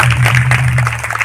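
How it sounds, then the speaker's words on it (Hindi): Audience clapping loudly and steadily at a Navdha Ramayan stage performance of devotional song and comic play, the dense applause continuing throughout over a low sustained hum. "एक बार जोरदार ताली बजाओ"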